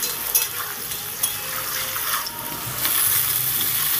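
Potatoes frying in oil in a covered pan give a steady, close hiss of sizzling with a few sharper pops, the sound swelling slightly louder toward the end.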